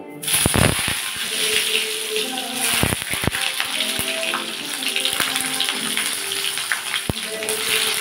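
Potatoes drop into hot oil already tempered with cumin, dried chili and bay leaf for a Bengali ghugni. A loud, steady sizzle and spatter rings up close, with a few sharp clanks of utensil on the pan.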